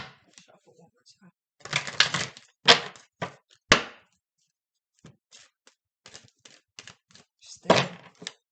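Bursts of cards being shuffled and tapped nearby, irregular clusters of papery riffles and soft thumps with quiet gaps between.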